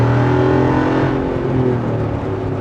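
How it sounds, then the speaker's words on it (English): A Jeep Wrangler 392 with its V8 engine pulls hard at full throttle, a loud, sustained roar that stays strong and close for the whole stretch, with no voices over it. "The performance out of this thing is on the trails and obviously in a straight line when you just lay onto that throttle."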